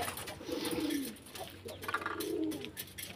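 Pigeons feeding eagerly on corn give two soft, low rolling coos about a second apart, near and moderately quiet over a faint background hiss, without speech.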